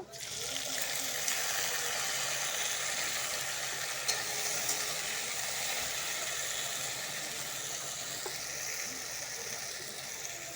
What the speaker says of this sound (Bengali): লাল লাল ভাজা হয়ে গেছে দেখো বন্ধুরা এখন টমেটো কুচিটা ঢেলে দিব